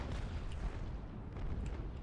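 Naval warship cannons fire broadsides in the video game Naval Action, making a steady, dense low rumble of overlapping booms that stays loud throughout the clip with no voices over it.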